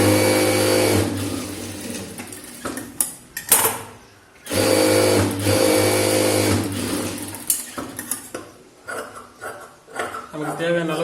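A sewing machine stitches a 44-inch close-neck blouse in loud, close bursts of rapid whirring, stopping briefly around the middle before running again, with short knocks and handling sounds between runs.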